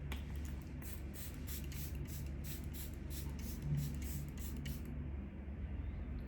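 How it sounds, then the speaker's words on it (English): Charlotte Tilbury Flawless Airbrush Setting Spray misted in a steady series of short, airy hissing bursts, close and continuous for about five seconds before it stops, with no talking over it. "Can't have a Charlotte Tilbury look without a Charlotte Tilbury Flawless Airbrush Setting Spray."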